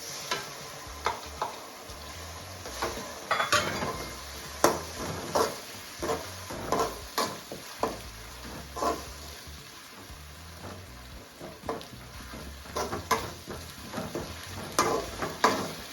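Onions and ground green masala sautéing in a pan for a spicy beef fry, a gentle continuous sizzle under frequent sharp spoon scrapes and taps against the pan, close and without voices.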